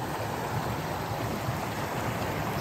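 Rushing water pours steadily at Chipmunk Falls, a small swimming-hole waterfall, making a continuous close broadband splash and hiss with no talk.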